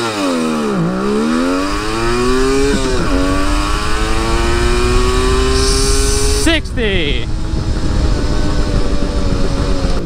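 A Suzuki GT550 two-stroke triple motorcycle accelerates hard from a standstill, its raspy engine note climbing through several rising sweeps separated by gear changes, loud and close.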